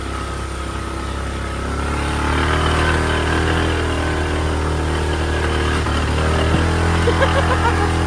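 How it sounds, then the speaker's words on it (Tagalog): Motorcycle engine droning steadily at moderate speed along a rough road, a continuous low hum with slight rises in pitch, loud and close throughout with no speech. "Pero madali lang naman to sa motor."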